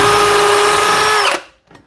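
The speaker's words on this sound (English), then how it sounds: "So re-drilling them." A power drill whirs loudly and steadily while re-drilling screw pilot holes for ceiling bike hangers in a garage, then winds down and stops, leaving a faint clatter.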